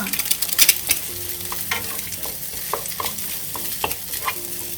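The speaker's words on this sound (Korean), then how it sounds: "잘 볶아줍니다." Egg and soy meat being stir-fried in hot oil for a cup-ramen fried rice, with a steady sizzle broken by repeated scrapes and clacks of a spatula against the pan, close and fairly loud with no voices.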